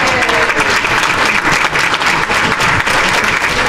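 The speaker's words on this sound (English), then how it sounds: "Let's hear it for Steve Freeman" Audience at a remembrance event for Milt Pappas gives loud, sustained applause, dense and continuous clapping from a crowd close by, with no break.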